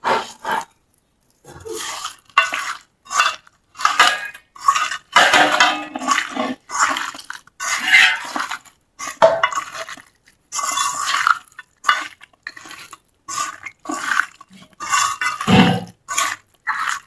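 Food being mixed by hand with salt in a bowl: close, fairly loud squelching and clattering bursts that come in irregular, repeated strokes with short pauses, no voices.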